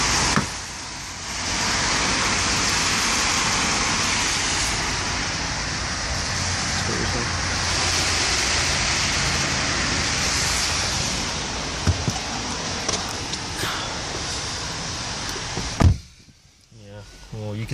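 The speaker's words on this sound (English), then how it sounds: "There's a lot of cars coming through, which is why it's so noisy." Cars passing on a busy main road make a steady, broadband roar of traffic that fills the background continuously, with occasional knocks and a voice speaking over it, before the noise drops away abruptly at the end.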